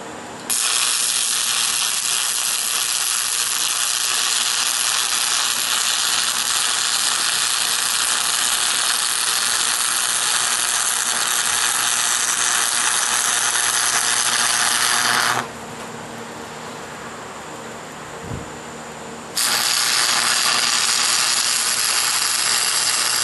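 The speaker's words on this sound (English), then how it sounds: "I think I'll weld it across the center in the bottom here first, and then go up the insides." Welding runs up the inside of a steel welding table, heard as a loud, continuous crackling buzz close by. It cuts out for a few seconds with a brief tick in the quiet, then resumes at full strength.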